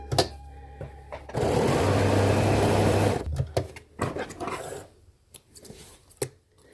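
Sewing machine running a seam on a fabric face mask in one steady, close two-second burst, followed by clicks and handling noises of the machine and cloth.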